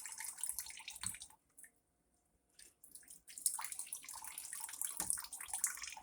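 Water from a kitchen tap runs at a slow trickle into a sink while pork chitterlings are being cleaned, a faint close splashing flow that stops briefly midway and then resumes.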